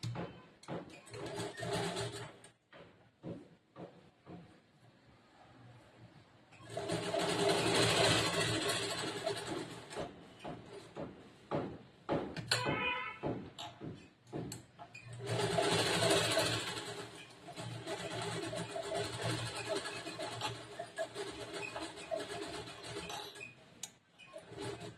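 A sewing machine stitches along the marked neck shape of a blouse in short whirring bursts, separated by quieter gaps filled with clicks and fabric handling.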